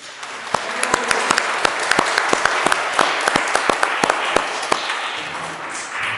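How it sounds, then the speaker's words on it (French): A church congregation applauds the singers and musicians at a Sunday Mass, with steady dense clapping and sharp individual claps standing out, continuous for several seconds before tapering slightly near the end. "On les applaudit."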